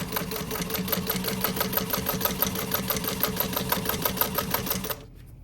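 A sewing machine stitches a pool tote in a fast, steady, even run of needle strokes, close and loud, then stops abruptly near the end.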